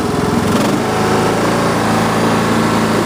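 Cub Cadet LTX 1045 lawn tractor engine running steadily up close, a loud, constant mechanical drone with a small shift in pitch near the start.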